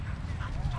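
A Basenji at a dog park gives a brief, close whimpering yip over low outdoor background noise.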